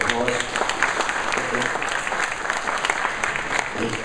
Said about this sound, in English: Dmitry, please stand up and give a big round of applause.